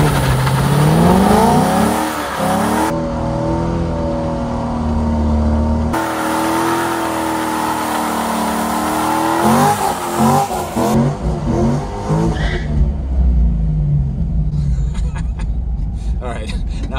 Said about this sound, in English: let's get this Z06 out on the road.